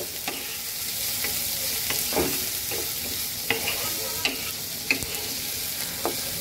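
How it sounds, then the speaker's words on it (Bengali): Onions frying in a pan for a bele fish do-peyaza, giving a steady close sizzle broken by repeated scraping stirs of a spatula, with no talking. "এবার আমি পেঁয়াজটাকে সুন্দর করে ভাজবো"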